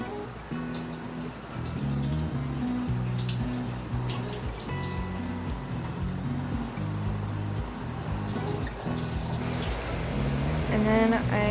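A shower runs steadily while someone rinses off, a continuous hiss of falling water with light splashing, close by, alongside faint background music.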